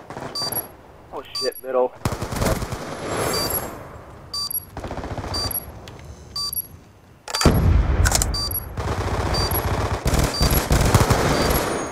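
Automatic and single gunshots in Black Ops II Search and Destroy on the Standoff map, sharp bursts and rapid rattling volleys, some near and loud and others more distant, with players talking and exclaiming throughout.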